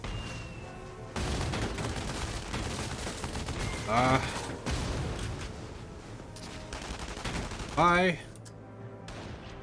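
Gunfire bursts from the Valkyria Chronicles 4 video game, rapid crackling shots running steadily through the stretch with two louder bursts, a voice briefly speaking near the end.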